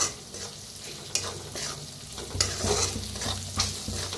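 Turmeric and red chili powder fry in oil over a wood-fired clay stove, giving a continuous hissing sizzle with scraping stirs of a spoon and occasional louder pops.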